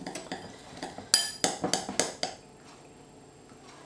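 A vinegar mixture is whisked in a bowl with a metal utensil, giving quick rhythmic clinks and taps against the side, then a quiet pause.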